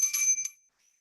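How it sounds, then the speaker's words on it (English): A meditation bell struck once to begin a session, a bright metallic ping with a quick second strike that rings briefly and decays into near silence. "We'll be beginning with the sound of the bell"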